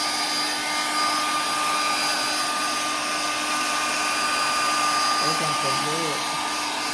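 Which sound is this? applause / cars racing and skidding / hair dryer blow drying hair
hair dryer blow drying hair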